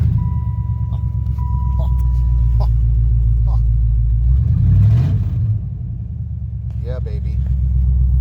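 A 1996 Chevrolet Impala SS V8 starts and runs with a loud, steady low idle rumble, a brief rev swelling midway before settling back; faint beeps and clicks sit on top.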